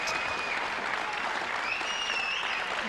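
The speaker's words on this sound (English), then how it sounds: "Lots of applause from the crowd." Crowd applause at a 9-ball pool match at the Fosters Euro Masters, a dense steady clapping filling the hall, close and loud throughout.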